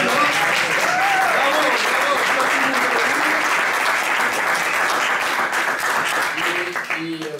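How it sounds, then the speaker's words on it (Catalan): At a music band event in l'Olleria, a crowd claps loudly and continuously for a band member, with a voice heard faintly over the applause before it tapers off at the end. "Enhorabona, un aplaudiment!"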